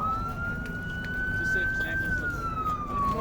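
An ambulance siren at a street rally in St Paul, a single steady wailing tone rising slowly then falling, heard over a loud rumbling crowd and traffic noise with voices in the background.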